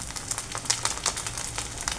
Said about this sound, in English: I'm frying it